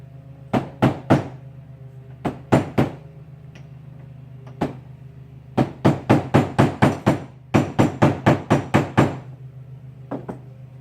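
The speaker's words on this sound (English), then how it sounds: "Get the old trusty Cook hammer" Sharp, repeated hammer blows from a Cook hammer drive a seal into a motorcycle swingarm bearing bore, arriving as spaced single taps and then quick bursts of evenly timed strikes, close and ringing over a low steady hum.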